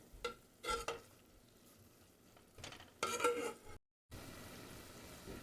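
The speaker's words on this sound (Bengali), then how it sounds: "তো একটু জাস্ট মিশিয়ে নেব, আর খেয়াল রাখতে হবে যেন তলাটা ধরে না যায়।" Chicken being stirred in a kadai over low flame, with soft scraping strokes and a quiet, steady sizzle of frying underneath, close by and moderately faint.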